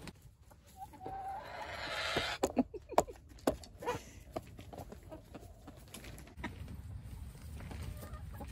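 A chicken kept inside a coop with deep mulch bedding, making a few short clucks and fowl calls close by amid rustling and light shuffling noises.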